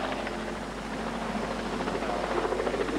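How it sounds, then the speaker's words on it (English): A helicopter passes in the sky above a 4WD trial in fine, still weather, giving a steady, continuous rotor drone that stays at an even level for the whole stretch, with faint background chatter underneath. "The only breeze at the moment really coming from a helicopter in the sky."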